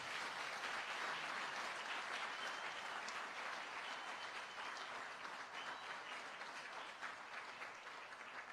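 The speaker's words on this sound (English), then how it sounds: "please give her a round of applause" An audience applauds steadily for a former Vice President of Malawi at a Chilima Foundation event, a dense, sustained clapping that fills the room and slowly eases toward the end, with no voices over it.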